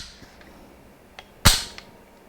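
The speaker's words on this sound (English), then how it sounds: "As you saw, this is a very pleasant gun to shoot." A single sharp, loud gunshot from a Taiwanese T65K2 rifle at a shooting range, with a brief decaying tail and a few faint clicks before it.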